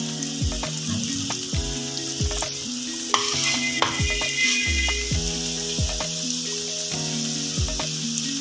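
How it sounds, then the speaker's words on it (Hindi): Chicken and potato rolls fry in oil in a loud, continuous close-up sizzle, with rhythmic knocks and clatter from handling the pan throughout. "अब हम इसको फ्राई करते हैं।"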